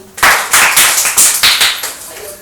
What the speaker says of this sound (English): So clapping for Sonam.